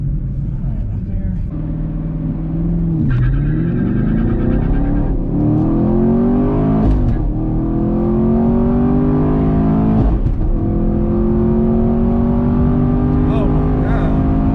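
A 2019 Chevrolet Camaro SS accelerates hard from inside the cabin, its V8 climbing through gears with no-lift shifts and brief tire chirps at each change, loud and close, with people talking over it.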